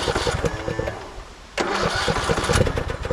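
Engine of a 2014 Craftsman T1600 lawn tractor cranking with a rhythmic starter whir, then catching and running loud and close with an uneven, pulsing idle.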